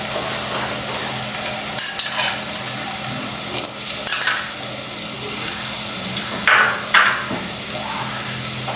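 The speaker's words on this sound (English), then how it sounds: "Onion and tomato is ready now. Let's add the prawns." Prawns dropping into a pan of cooked onion and tomato, a continuous close sizzle with scattered clatters and scraping stir strokes, no voices.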